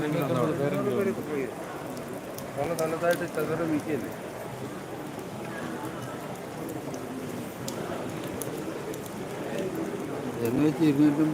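Steady rain patters down during preparations for the Pallivetta ritual at the Champakkara Meenabharani festival, a soft constant hiss beneath nearby people chatting throughout, with a faint bird cooing in the background.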